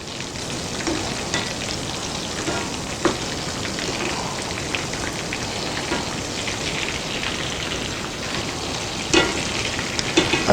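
Country-fried baby back ribs sizzle in an oiled pan, a loud, dense crackling hiss like heavy rain that runs steadily, with occasional sharper pops and a brief clatter near the end, no talking.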